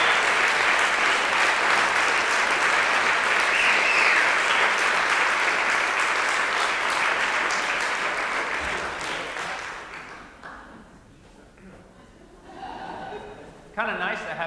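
Audience applause for the ten finalists at a 2014 fast pitch award ceremony, a loud sustained roar of clapping that fades out after about ten seconds, leaving quieter room sound with brief voices and a sharp knock near the end.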